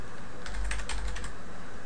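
A short burst of quiet, rapid keystrokes on a computer keyboard, heard close and alone, with no talk.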